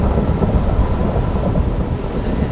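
Steady rain pours continuously while deep thunder rumbles throughout, loud and close, in the Minecraft video game with no voices.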